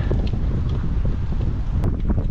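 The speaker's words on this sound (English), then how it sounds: "wind is not in my favor." Gusting wind rushes steadily across the microphone in a forest during timber felling, a loud continuous roar with no voices.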